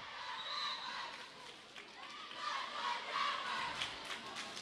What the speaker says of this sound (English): Got the crowd here. Buena yelling on one side, Desert View on the other side.